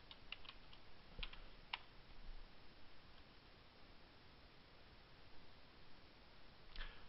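A password is typed on a computer keyboard as quiet, quick key taps spread through the clip. A few clicks stand out over a steady faint hiss.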